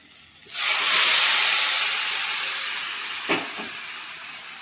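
Spice paste hits hot oil with a sudden loud hiss that slowly fades into a steady sizzle for a low-oil jackfruit and prawn dish, followed by a single spatula tap.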